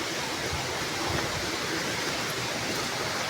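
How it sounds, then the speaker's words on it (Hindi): A waterfall pours over rocks in a constant, dense roar of falling water that fills the scene evenly from start to finish, with no voices. "तो अभी आवाज़ भी सुन सकते हैं, वो वाटरफॉल का पानी गिर रहा है इधर।"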